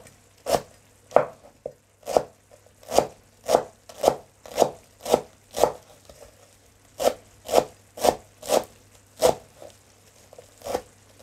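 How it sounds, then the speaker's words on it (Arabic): Fresh parsley chopped finely with a knife on a board, a steady run of about seventeen crisp, evenly spaced chops close by, with no talking. "هي طريقة فرم البقدونس"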